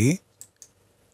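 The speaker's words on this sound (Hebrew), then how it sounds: "אני עושה דאבל קליק, אני לוחץ על העתק למעלה, או קונטרול C" Two quick, faint clicks, close together like a computer mouse double click or a keyboard press, follow a brief voice and sound in a near-silent room.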